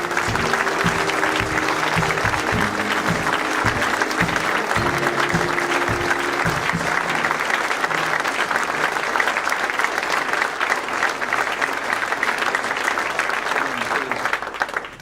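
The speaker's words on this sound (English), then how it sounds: "Thank you very much for that very generous applause" Audience applause at a university alumni achievement awards ceremony, a dense, steady wash of clapping filling the whole stretch, with a voice speaking over the first few seconds.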